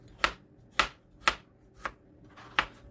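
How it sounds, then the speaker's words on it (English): A knife cuts potatoes into cube-sized pieces on a board: five crisp, separate chops at an uneven, unhurried pace, close and clear with a quiet background. "start cutting up my potatoes"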